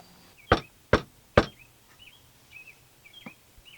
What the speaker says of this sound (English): Knock again, he might answer.